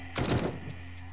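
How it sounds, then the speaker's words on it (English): A short burst of overlapping gunshots in the survival game 7 Days To Die, a quick cluster of loud, rapid reports lasting about a third of a second before fading into low background hum. "I just had multiple gunshots just go off."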